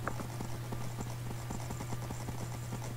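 Horse hooves clip-clop in a Minecraft horse race minigame, a steady rapid gallop of evenly spaced hoofbeats over a constant low hum, moderately loud and close.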